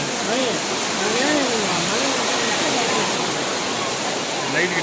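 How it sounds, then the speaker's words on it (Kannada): Rain falls at night at a hillside temple lit for Diwali, a dense, steady hiss that fills the whole stretch while voices talk over it. "ಮಳೆ ಬಂದ್ಬಿಡ್ತಲ್ಲಪ್ಪ"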